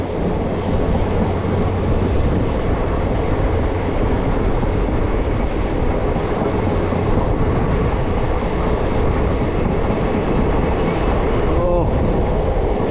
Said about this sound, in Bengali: ট্রেনটা ঘুরে যাচ্ছে